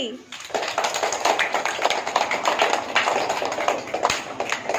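Children clap their hands together in a steady, dense stream of overlapping claps while counting aloud in a classroom-style activity in Odisha; young voices chant numbers continuously over the clapping throughout.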